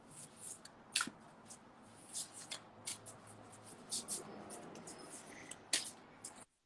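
A deck of cards is shuffled quietly and close by, with soft papery riffles and crisp snaps in irregular bursts over a faint background hum, and no voices.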